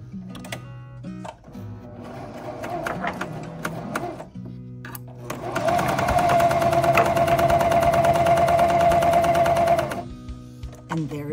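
A CoverPro 2000CPX cover stitch sewing machine, threaded for a three-needle cover stitch, runs in a steady rapid whir for about four seconds. Quieter clicks and handling noises come before it, and a voice may be faintly present.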